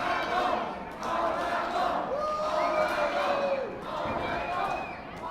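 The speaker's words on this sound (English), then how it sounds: "The fans in Dublin, Georgia, cheering for their favorite, Mr. All Night Long, Rich Swann." Wrestling fans at a Dublin, Georgia event cheering and shouting as a loud, sustained crowd roar with whoops, while a commentator talks over it.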